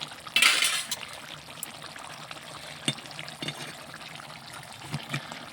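Cooked meat curry poured out of a pot, a brief thick splashing rush at the start followed by scattered clinks and scrapes of a pan, close and fairly quiet, with no talk.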